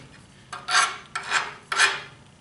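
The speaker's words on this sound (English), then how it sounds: "just kind of cleaning up the other little burrs and stuff" Metal burrs being filed off a drum stand, with three separate rasping strokes close up, each a short gritty scrape followed by a brief pause.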